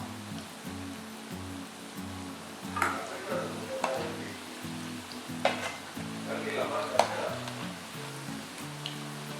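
Onion egg pakoda frying in hot oil until crisp, a steady close sizzle and crackle running throughout with occasional stirring clinks and a faint low background hum.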